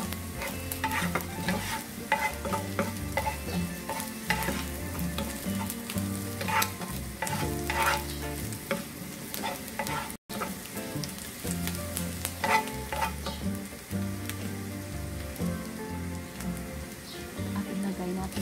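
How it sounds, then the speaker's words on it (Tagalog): Tunasilog stirred and frying in a pan, a continuous close sizzle with repeated scraping stir strokes throughout, no talk. "Haluin na natin hanggang sa maluto."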